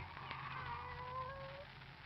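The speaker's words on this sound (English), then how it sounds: "Oh, it's you, Kitty." A cat meows in an old radio suspense drama, one drawn-out, wavering mew rising and falling over a low hum, fairly faint and with no speech over it.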